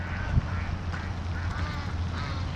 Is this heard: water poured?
no